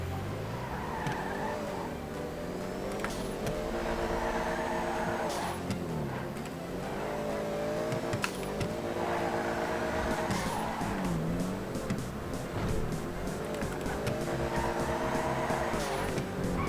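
A car drifting at high speed in GTA 5 Online, the engine revving up and down in repeated sweeps while the tires squeal and skid continuously, loud and sustained throughout.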